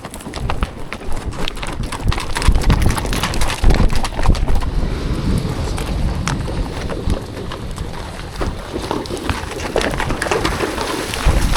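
Horses move over rough ground on a glacier trek in Iceland, an irregular series of close thuds and knocks from hooves and tack that continues throughout, with no speech.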